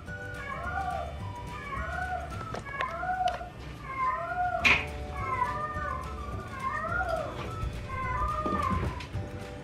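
A cat meows repeatedly in short, wavering cries that sound somewhat like a baby, close and clear over a low background hum, with a sharp chirp partway through.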